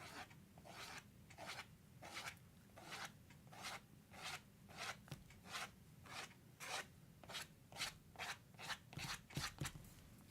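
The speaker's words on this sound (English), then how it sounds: "I'll take that credit card again and go in and scrape out some more lines" A credit card scrapes lines into watercolor paper for a rock arch landscape, in a steady series of about twenty short rasping strokes, close and fairly quiet, with no talking.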